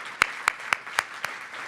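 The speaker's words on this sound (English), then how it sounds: "Let's give him a round of applause." An audience claps at a university speaker series event, heard as five sharp evenly spaced claps about a quarter second apart, close and distinct over a quiet background.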